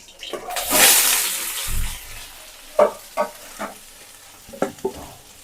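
Soybean chunks fry in a kitchen pan, a surge of sizzling followed by several short scraping stirs, close and moderately loud.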